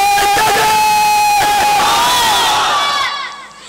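At a Bengali religious sermon, a large crowd roars a loud, sustained takbir chant in unison, the voices swelling together and then dropping off near the end.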